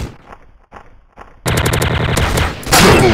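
TMP submachine gun fired in the video game Special Ops: a quieter opening with faint distant shots, then loud, sustained rapid automatic bursts that grow even louder near the end.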